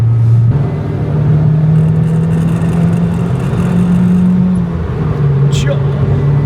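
A turbocharged JDM import car's engine droning and building boost on the road, a steady loud rumble with a sustained low tone that shifts in pitch, heard from inside with people talking over it.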